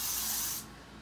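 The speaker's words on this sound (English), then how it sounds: "Let me see, I can spray some now." A hair finishing shine spray hisses in one short, close burst lasting about half a second, then cuts off into quiet room tone.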